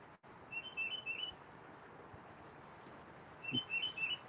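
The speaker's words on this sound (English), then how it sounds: "and hearing the birds sing." Birds sing faintly near a campsite, with two short bursts of high whistled chirps separated by a quiet stretch, over steady low outdoor background noise.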